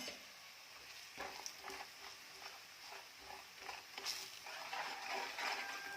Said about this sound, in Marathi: मसाला घालून तेलात छान परतून घ्यायचं